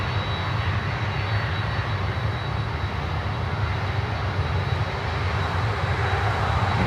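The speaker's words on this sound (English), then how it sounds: "Also, it's like a 321 Neo." An Airbus A321neo airliner at Miami airport, giving off a loud, steady, close jet-engine roar that continues unbroken for about seven seconds.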